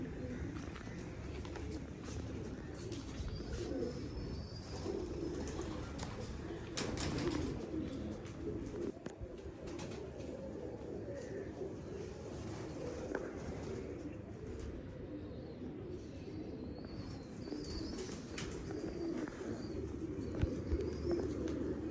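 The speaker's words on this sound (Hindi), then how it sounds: "इसके साथ डब वाला कबूतर ही लगाने लगा हूँ जी मैं, वो आपको दिखाता हूँ।" Dub-tailed pigeons cooing in a loft, a steady low murmur of overlapping coos that runs through the whole stretch with no break, joined by faint scattered chirps from other birds.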